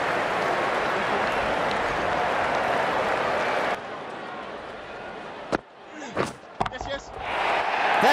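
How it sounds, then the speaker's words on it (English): Crowd noise at a Cricket World Cup match between England and South Africa in the video game Cricket 19, a loud, steady roar for about four seconds that drops away, followed by a few sharp knocks and bursts in a quieter stretch. "That's what the crowd have come to see."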